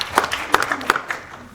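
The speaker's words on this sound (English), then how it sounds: "That needs applause." A small group at a school board of education meeting claps briefly, a handful of sparse, distinct claps close by that thin out and fade within a second and a half.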